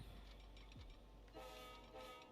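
A train runs in the Transport Fever 2 video game, giving a constant rumbling mechanical drone with a brief horn-like tonal swell midway. The sound stays quiet and continuous throughout.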